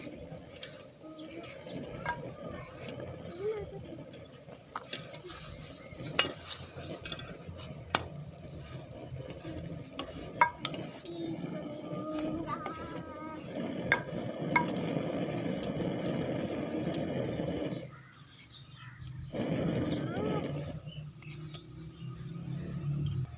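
Lachha paratha cooking in a pan over low heat, a steady soft sizzle running for a long stretch with scattered small clinks and scrapes, briefly dropping out near the end.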